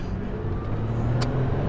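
A twin-turbo Datsun 240Z sleeper car drives along with a steady low engine rumble, heard from inside, with one brief click partway through.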